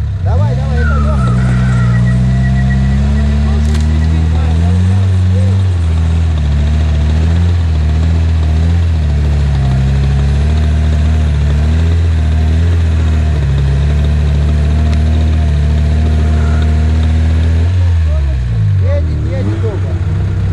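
An off-road car climbs out of a steep ravine, its engine loud and close, revving and straining in long sustained pulls that rise and fall, then dropping back near the end.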